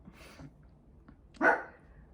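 A single short dog bark sounds out midway, moderately close, against a faint, quiet background with a few small noises before it.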